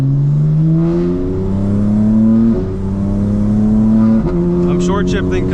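A car engine, not yet warmed up, revs and pulls in low gears during morning city driving, with quick upshifts breaking the rising drone into short steps before it settles again; it is close and steady throughout.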